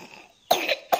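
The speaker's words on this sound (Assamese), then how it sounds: "কাহ হৈছে ইমান আমাৰ ছোৱালীজনীৰ।" A girl coughs twice, close and fairly loud: one longer hacking cough followed by a short sharp second one after a brief pause.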